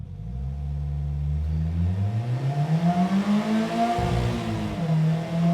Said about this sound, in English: so now I want slingshot mode. And I'm going to launch off the line.